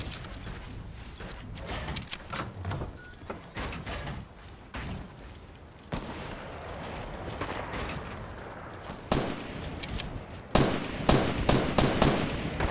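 Gunfire in a Fortnite duo match, a scatter of sharp shots and clicky mechanical reloads spread across the scene, growing louder and denser toward the end, with no talk.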